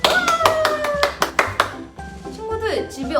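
Brief rounds of hand clapping at a children's church Bible school activity, sharp bursts over a soft musical backing, with claps clustered through the first half and more scattered taps after.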